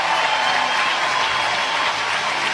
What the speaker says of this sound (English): the crowd gives a good round of applause for Nicole May